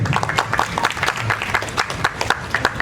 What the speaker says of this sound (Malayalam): നല്ലൊരു കയ്യടി കൊടുക്കാതെ.